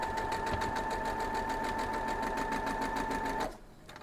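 A sewing machine stitching fabric pieces runs steadily at speed with a fast even whirring hum and rhythmic needle clatter, close up, then stops abruptly near the end.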